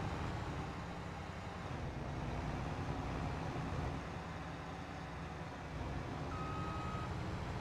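A Nexat carrier vehicle in Farming Simulator 22 reverses under a constant low engine drone, with one short electronic reversing beep near the end and no talk.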